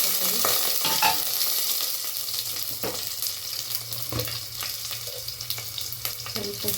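Mustard seeds, onion and curry leaves frying in about three spoons of hot oil give off a loud, steady crackling sizzle, broken by occasional scrapes of a stirring spoon.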